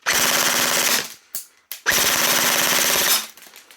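A Double Bell 808 KAC PDW airsoft gun firing full auto, two loud sustained rapid bursts of about a second each separated by a short pause with a couple of clacks, very close.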